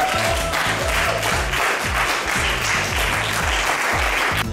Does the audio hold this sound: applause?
yes